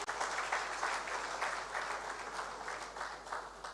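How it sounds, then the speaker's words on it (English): Audience at an international trade seminar in a hall breaking into sustained applause, a dense wash of many hands clapping at moderate distance, steady throughout with no talk. "Give them another round of applause."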